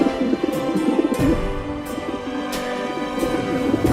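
Soft, low cooing of a pigeon repeats in a steady rhythm, with faint clicks over a background hum.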